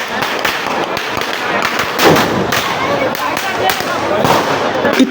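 Firecrackers and gunfire-like bangs echo at an Independence Day celebration, a scattered series of sharp cracks and dull thumps at a distance, with a person talking over them.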